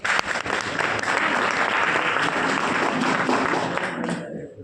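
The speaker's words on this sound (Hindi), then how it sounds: "सर के लिए जोरदार तालियां" Loud applause from the audience at a health workshop, a dense burst of many hands clapping that holds steady for several seconds, then quickly dies away at the end.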